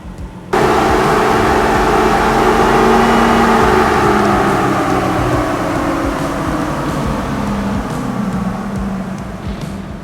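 A Toyota Tacoma engine runs at part throttle on a tuning session. It kicks in abruptly into a loud, steady drone that holds for ten seconds and eases only slightly toward the end, with no voices.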